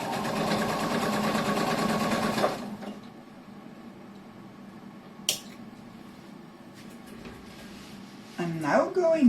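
Sewing machine stitching a shoulder bag seam, a rapid buzzing run of stitches that stops after a couple of seconds, followed by quiet handling with a sharp click and brief rustling at the end.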